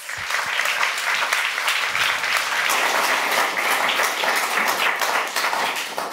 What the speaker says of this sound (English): Give him a warm hand of applause.